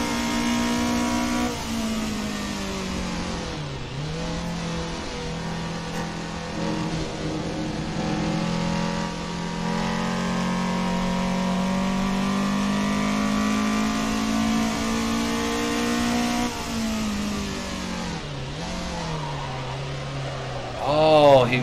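A Toyota race car engine in Assetto Corsa, held loud and steady near redline through a long straight, with pitch dips at the shifts and a rising rev burst at the end; a voice talks faintly underneath.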